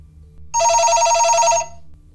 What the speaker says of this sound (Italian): Gli ultimi squilli erano stati più forti e acuti.